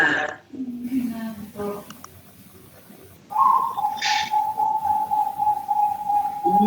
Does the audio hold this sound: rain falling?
no